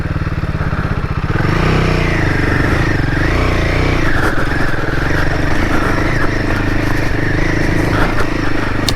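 A Royal Enfield Himalayan 450 motorcycle ridden on narrow UK trails, its loud, close engine thrumming continuously with pitch rising and falling as it climbs, mixed with clattering and scraping from the rough ground.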